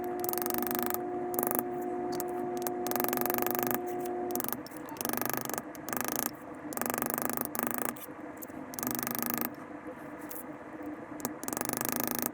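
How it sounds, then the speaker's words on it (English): A leather tooling beveler is tapped repeatedly along cut lines in leather, giving a quiet, rapid series of dry clicking taps in bursts with brief pauses between them. "I'll work down this cut and alternate which way I'm beveling"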